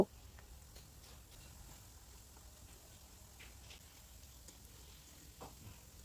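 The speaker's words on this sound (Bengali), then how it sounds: "এরপর এক এক করে বাকি পিঠেগুলো আমি ভেজে নেব" Palm fruit pitha cakes fry in oil with a faint, even low sizzle that runs throughout, broken by a few soft clinks and bubbling pops, distant and without speech.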